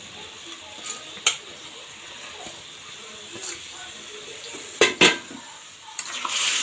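Potatoes and onions frying in a pan for Bengali egg curry, a low steady sizzle with a few sharp scraping and clinking stirs of a spatula against the pan, and a brief word spoken.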